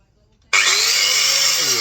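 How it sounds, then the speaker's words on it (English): Electric grinder switching on abruptly after a near-silent moment, then a loud, steady high-pitched whine that holds without a break. "I love a good electric grinder."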